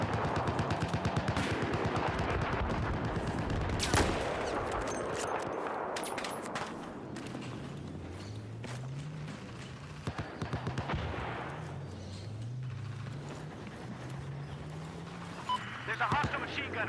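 Dense, rapid machine gun fire from a video game rattles loudly for the first several seconds, then recedes behind steady background action while a voice talks throughout.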